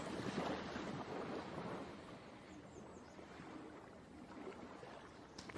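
Ocean waves roll in a steady broadband wash with wind buffeting the microphone, a continuous moderately loud surf bed during a guided meditation, with no voices over it.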